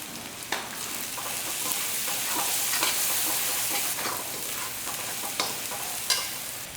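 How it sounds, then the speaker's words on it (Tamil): Sliced onions sautéing in a pan with a spoonful of ginger garlic paste for a Gongura chicken dish, a continuous moderate sizzle with occasional scraping stir strokes and utensil knocks, no talking. "இப்போ வதக்கிட்டு இருக்கும் போது ஒரு ஸ்பூன் அளவுக்கு இஞ்சி பூண்டு பேஸ்ட்டு நல்லா இந்த வெங்காயம் வதங்கும் போதே போட்டுக்கோங்க"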